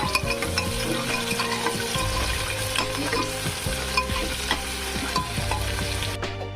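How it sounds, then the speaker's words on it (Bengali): Onion and garlic frying in mustard oil with bay leaves in a pan, a steady loud sizzle running throughout with occasional stirring scrapes and clinks, no talking. "এদিকে পেঁয়াজ রসুন ভাজা হয়ে গেছে"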